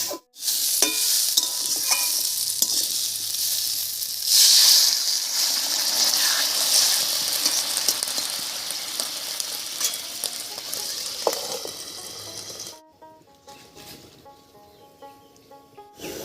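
Steady loud sizzling of North Bengal hill squash frying in a pan, with occasional stirring scrapes, then quieter after the sizzle drops off near the end.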